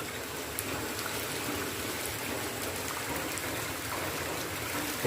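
Water rushes steadily in a broad, even hiss, like a nearby stream flowing without pause.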